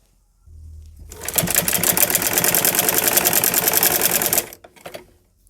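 A sewing machine stitches a folded fabric piece for a flower latkan on a blouse, running in one dense, steady, fast burst of needle clatter for about three seconds before stopping.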